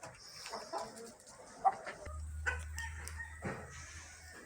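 Chickens and roosters, including Fayoumi and Brahma breeds, are let out of their coop, with scattered clucks and calls at a moderate distance, a short crow, and a steady low hum running beneath them.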